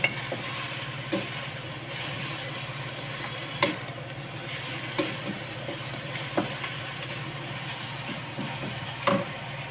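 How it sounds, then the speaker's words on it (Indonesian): Chicken stir-fries in a pan with a steady, dense sizzle that runs the whole time, broken by occasional clicks and scrapes of a spatula. No one speaks. "kita gongso terus ini ayamnya sampai dia menguning ya teman-teman"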